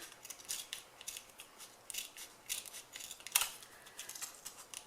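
Soft, repeated snipping of scissors cutting around a thin plastic Keurig coffee pod, a steady series of quiet crisp cuts close by.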